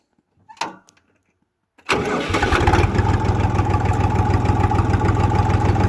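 Kentavr 244SX mini tractor with a KM385VT diesel engine cranks briefly after a short quiet stretch, then catches and settles into a loud, steady, close idle rumble.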